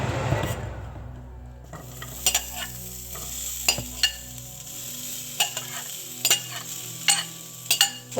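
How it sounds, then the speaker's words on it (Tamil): Chopped onions crackle in hot oil after a loud initial splash, then a quieter steady sizzle punctuated by several sharp spatula scrapes and taps, heard close with no talking. "எண்ணெய் காஞ்சிருச்சு, இப்போ வெங்காயத்தை போட்டுக்கலாம்"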